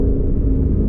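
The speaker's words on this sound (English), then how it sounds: "this motor on top of all of those things is a dual overhead cam, which sings to the moon." Ford Mustang dual overhead cam engine with a 7,500 RPM redline, a loud, close, deep rumbling roar held steady for a brief moment, no voices.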